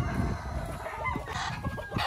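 Purebred white Kelso pullets on a farm cluck in short, irregular calls close by, with a brief higher crow-like note, over low background noise.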